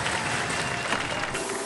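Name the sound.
studio audience applause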